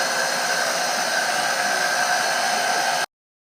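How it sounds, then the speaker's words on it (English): A vacuum pump used to suck differential fluid out of a 2012 Ford Raptor's front differential through a plastic tube gives a loud, steady hissing whir that cuts off abruptly near the end, no talking. "that vacuum pump is really, really annoying"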